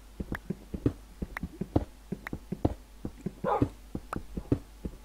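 Repeated short dog yips and whimpers from a pet dog in Minecraft, coming in quick uneven bursts at close range.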